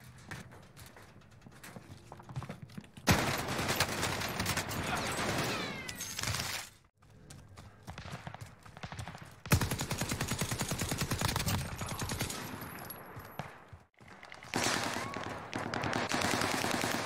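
Rapid automatic gunfire from Call of Duty: Warzone rattles in loud sustained bursts separated by short pauses, with dense clattering shots and game sound effects.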